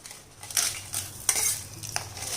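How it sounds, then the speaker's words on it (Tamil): Chillies frying in hot oil for Andhra-style coriander thokku, with a spoon scraping and stirring the pan in several distinct strokes over a low steady sizzle; close and fairly quiet, no talking. "இப்போ அந்த எண்ணெயிலே இந்த மிளகாயை வறுத்து எடுத்துக்கலாம்."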